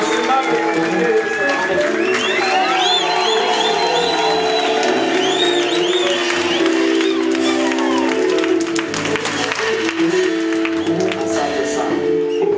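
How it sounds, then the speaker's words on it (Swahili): A crowd applauds and cheers at a church farewell ceremony for a retiring CAG director in Mbozi. Dense, continuous clapping and shouting fill the room without pause, mixed with voices and tonal sounds that may be singing. "Makofi jamani"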